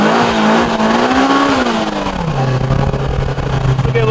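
A Polaris Slingshot R with traction control off, engine droning loudly as the pitch sweeps and then drops, tires squealing as it slides sideways, with a steady roar throughout.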